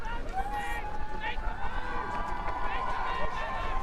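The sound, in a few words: crowd cheering on the bank at a rowing regatta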